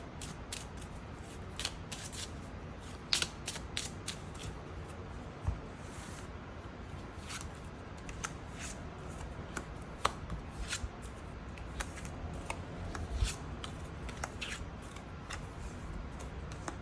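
Tarot cards being shuffled and drawn for a weekly fortune reading, a steady run of soft papery riffles and sharp flicks, close and quiet, with no talking.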